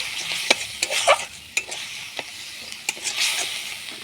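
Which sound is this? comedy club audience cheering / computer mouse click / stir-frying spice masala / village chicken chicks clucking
stir-frying spice masala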